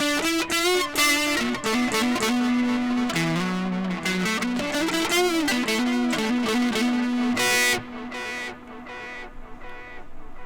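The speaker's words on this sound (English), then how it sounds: "that like quarter note delay using a tape delay" An electric guitar plays a melodic lead line through a quarter-note tape delay, each note trailing into soft repeating echoes that fade out after the final phrase.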